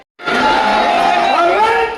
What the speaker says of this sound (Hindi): एक बार जोरदार तालियों से केजरीवाल जी का स्वागत करेंगे